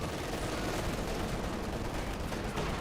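Volksgrenadier squads trade fire with riflemen in Company of Heroes 2, a dense, continuous clatter of small-arms shots layered over constant battlefield noise.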